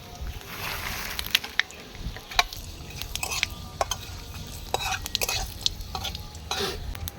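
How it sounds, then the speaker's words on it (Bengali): Whole five-spice seeds, dry red chilli and bay leaf hit hot oil in a kadai for dal tempering, giving a steady crackling sizzle with sharp pops and spatters, close and continuous, with no one talking. "কড়াইটা গরম হয়ে গেছে এবার আমরা ডালের ফোড়নটা দিয়ে দেবো"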